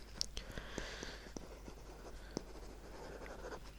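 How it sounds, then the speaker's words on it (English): Pen scratching across paper in soft, close strokes, with short taps and scribbles running steadily through a quiet room. "let me just write that down"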